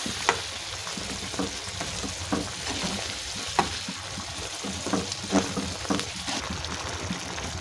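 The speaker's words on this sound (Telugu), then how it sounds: "ఇలా కర్రీ అంతా బాగా మిక్స్ చేసుకున్నామండి." Cucumber masala curry with ground coconut and sesame paste is stirred in a pan. It sizzles gently with repeated scraping strokes and soft clatters of the spoon, close and steady with no voices.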